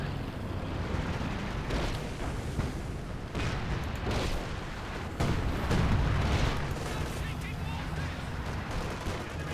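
Artillery from a concentration barrage in the Company of Heroes 2 strategy game, dense booming blasts and crackling gunfire rolling on continuously at loud, steady volume, with a heavier burst near the middle.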